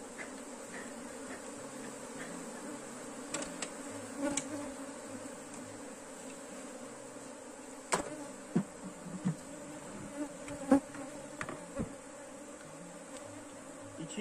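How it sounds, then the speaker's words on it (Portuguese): A swarm of honeybees gathered during a beekeeping split hums with a steady, dense buzz, broken by a few soft knocks and taps from handling the hive box nearby. "E aqui o enxame,"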